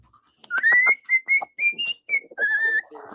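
A bird whistling a short series of clear, rising and sliding notes, close and fairly loud, with small pauses between phrases.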